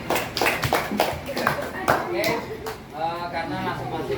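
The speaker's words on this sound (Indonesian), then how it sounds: "Terima kasih tepuk tangan." Students in a micro-teaching classroom clap their hands in loose, uneven bursts for several seconds, mixed with voices talking over the clapping.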